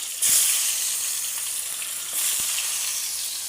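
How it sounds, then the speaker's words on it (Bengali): Slices of pointed gourd (potol) fry in oil in a pan with a close, continuous hissing sizzle that swells as the pieces go in and again a moment later, with a faint tap of a utensil. "তো এইটা এইভাবে আমি ভেজে নিব কারণ এইভাবে ভেজে খেতে খুব ভালো লাগে আমার"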